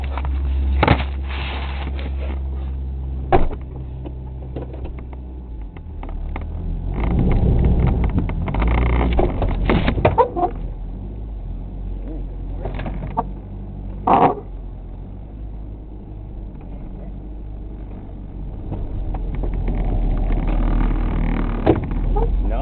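A 1989 Toyota Corolla All-Trac wagon idles and pulls off in a steady low engine rumble, broken by occasional knocks and thumps, with brief voices nearby.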